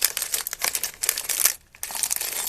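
Crinkly plastic bags holding building-set pieces are handled and crumpled up close, giving dense, sharp rustling and crackling throughout with a brief lull midway.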